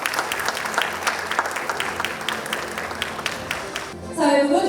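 Audience applause at a Korean ESG management awards ceremony as a plaque and flowers are handed over, steady mid-level clapping from a crowd that fades out near the end before a brief burst of other noise.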